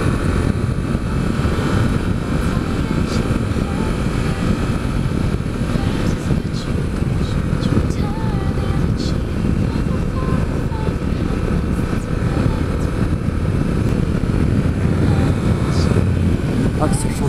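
A Yamaha MT Tracer 700 motorcycle rides through a curve at an easy pace, its engine a loud, steady drone blended with continuous wind rush and no let-up throughout.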